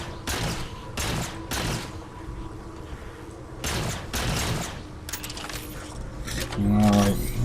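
Bursts of rifle fire from the Halo 4 campaign mission Requiem, aimed at jackals and elites, come in several short volleys with pauses between them, mixed with game sound effects and a murmur of background speech.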